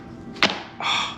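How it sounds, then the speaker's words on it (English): A homemade pizza is lifted off a wire cooling rack: a sharp clack as the crust knocks against the metal, then a short scraping slide, close and brief. "let's pull this pizza off the cooling rack"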